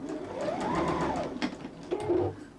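A sewing machine stitches a fabric pouch lining in one continuous close run of rapid mechanical whirring, with slight changes in speed and a brief pause near the end.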